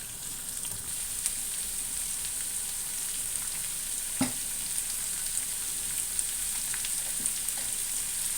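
Onions frying with salt, green chillies, a dried red chilli and curry leaves for a milk curry give a steady, close hiss of sizzling oil, with a few faint scrapes and pops and no talking.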